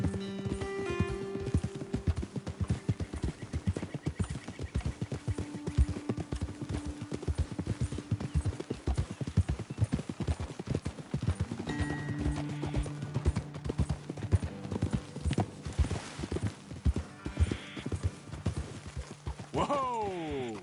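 Horse hooves gallop in a fast, steady clip-clop across the whole stretch in Red Dead Redemption 2, with music and an occasional whinny over the rhythm.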